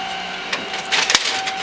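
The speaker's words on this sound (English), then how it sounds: "This is my new printer." A new printer runs during setup, giving a steady mechanical whir with a faint electronic tone, then brief clattering feed bursts toward the end, close and alone.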